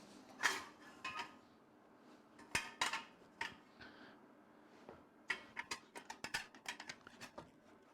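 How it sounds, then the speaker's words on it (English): Cooked potatoes being pureed, a series of scattered clanks and scrapes of a utensil against a pot, close and intermittent with short bursts of rapid knocks. "puree the potatoes"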